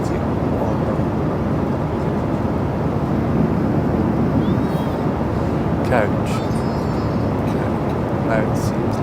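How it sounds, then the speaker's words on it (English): A steady, loud broadband roar fills an airplane cabin descending toward Helsinki, a constant engine and air rush with faint talk and small clicks above it. "the plane is descending to Helsinki"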